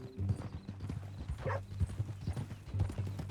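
Horse hooves clip-clop steadily in Red Dead Redemption 2, a continuous close rhythmic plodding of a ranch horse with a brief whinny-like tone midway, under low game ambience.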